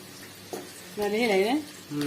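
Onions turn brown in a pan for mutton curry, giving a low sizzle with light stirring. A voice is briefly heard over the frying.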